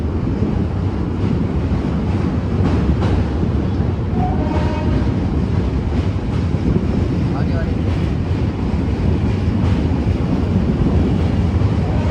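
A train rumbles steadily along the line on the journey from Prayagraj to Varanasi, heard loud and close from on board with wind buffeting and a brief horn-like tone, while a voice speaks over the noise.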